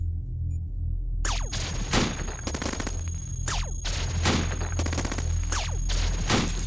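A proton cannon fires in the video game Cogmind, a rapid string of loud blasts and sharp impacts over a low continuous rumble, with no talking.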